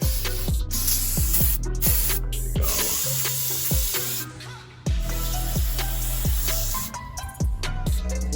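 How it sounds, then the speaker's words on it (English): Brake cleaner hisses in a series of sharp aerosol bursts onto a brake caliper, with short pauses between sprays and a couple of longer continuous blasts. "Spray a little bit of brake cleaner on there."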